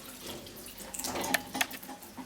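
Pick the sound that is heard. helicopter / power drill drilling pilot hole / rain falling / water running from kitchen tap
water running from kitchen tap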